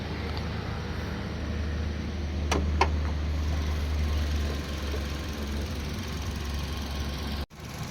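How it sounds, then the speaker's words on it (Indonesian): A low-mileage 2014 Suzuki Ertiga GL manual in clean, well-kept condition idles under its open hood, a steady, faint low hum with a smooth even rhythm and a couple of brief clicks. "Ini kondisi mesinnya masih sangat terawat sekali teman-teman, sangat bersih. Iramanya juga masih standar, masih normal semua."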